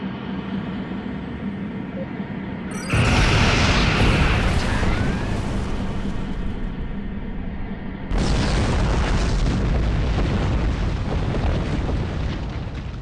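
A starship fires weapons at a Romulan sphere in Star Trek Online, and heavy rumbling blasts and booms roll in loud, sustained waves over a continuous low hum, with a brief break between the two barrages.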